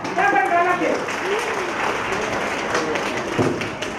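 Audience applause at a school annual day and graduation celebration, steady dense clapping with a voice briefly heard over it at the start.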